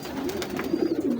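Black-feathered teddy pigeons coo close by in a low, steady, continuous murmur, with soft overlapping calls rising slightly in the second half and no talking.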